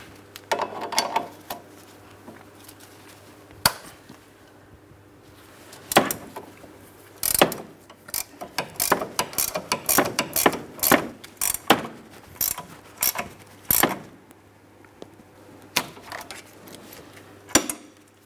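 A hand wrench tightens the ball joint mounting nut on a lower control arm of a 2003-2007 Cadillac CTS, heard as irregular metallic ratcheting clicks and clanks in uneven bursts, close and fairly loud with no talking.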